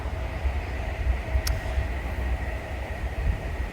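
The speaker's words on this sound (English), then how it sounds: "I just let the train go past." A train passes near the River Ouse, giving a steady low rumble with a faint continuous whine and a brief sharp click midway, moderately distant and heard alone.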